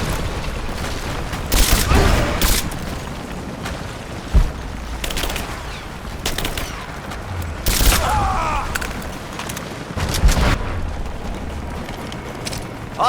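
Gunfire crackles through a firefight in Rise of the Tomb Raider: scattered bursts and sharp cracks, some near and booming, others more distant, over a constant battle din, with shouted voices mixed in.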